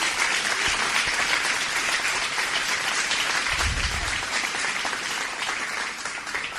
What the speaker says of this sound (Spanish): Den un aplauso al Señor, cierto.